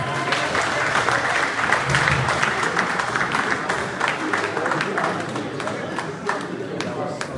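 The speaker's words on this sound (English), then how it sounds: "Can we give her another round of applause?" An audience at an investment conference in Liberia gives a sustained round of applause, dense clapping filling the room steadily throughout with a few brief cheers mixed in.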